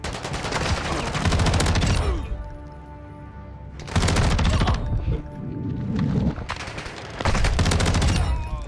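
Automatic gunfire in Call of Duty: Modern Warfare II, with a Tempus Razorback rifle. Loud, rapid sustained bursts come in three long volleys separated by brief lulls of quieter battlefield noise, close and dominant.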